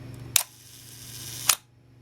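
A Minolta SRT 200 35mm film camera fires its shutter at a one-second speed: a sharp mechanical clack, a second of quiet hum, then a second closing snap, close and clear.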